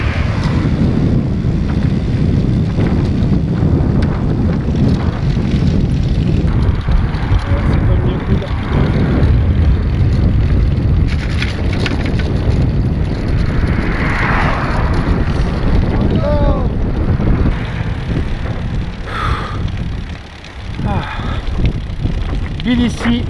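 A light breeze blows steadily along the Black Sea coast, a broad continuous rush of wind buffeting the microphone, with faint voices briefly in the background.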